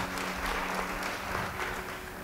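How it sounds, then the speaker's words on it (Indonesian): Applause from a church congregation, a steady dense clapping that holds for a couple of seconds at moderate loudness with no speech over it. "Beri tepuk tangan bagi dia."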